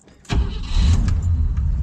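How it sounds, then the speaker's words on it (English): A 1969 Ford Fairlane engine idling with a lumpy, cammy note after the idle was set down off the fast idle cam, a sudden loud close rumble that holds steady. "I adjusted the idle, set it down off the fast idle cam, and you know, it still sounds cammy"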